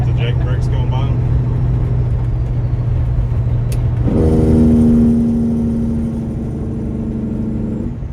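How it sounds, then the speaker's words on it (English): A slammed custom Peterbilt 389 truck engine drones steadily, then shifts into a louder, deeper rumbling bark as the Jake brake engages, holding for several seconds before easing slightly. "You want to hit the Jake brakes going by them?"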